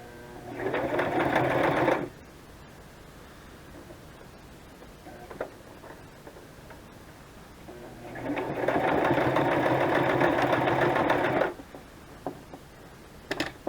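A sewing machine runs in two loud bursts of steady stitching through altered playing cards, each lasting a few seconds, with a quiet stretch of light clicks between them.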